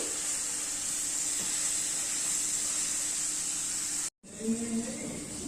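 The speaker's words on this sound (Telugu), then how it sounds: "ఆయిల్ కాగింది నేను ఉల్లిపాయలు వేస్తున్నాను ఫ్రై చేస్తాను" Onions frying in hot oil, a steady loud hiss and sizzle that cuts off briefly near the end and then resumes with a stirring clatter.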